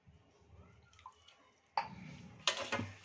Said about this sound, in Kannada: ನಾನು ಸ್ವಲ್ಪ ನೀರು ಹಾಕೊತೀನಿ